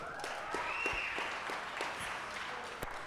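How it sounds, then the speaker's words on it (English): Faint, distant applause from an audience at a darts tour event, steady clapping at low level throughout. "So give him a round of applause for that as well."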